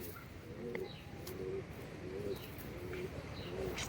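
A held pigeon of a Madras breed coos softly in a steady series of short, evenly spaced calls, heard close against a constant hiss with faint clicks and other noises.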